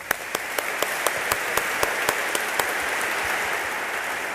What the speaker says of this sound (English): Join me in a round of applause, please.